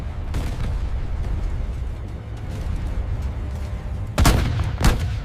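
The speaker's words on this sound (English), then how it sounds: "Artillery begins to clear the path for the main assault. Armor begins to bombard the forward defensive positions." Artillery fire and armor bombardment in a 1942 desert battle video game, a continuous low rumble of distant guns broken by two sharp, loud blasts near the end.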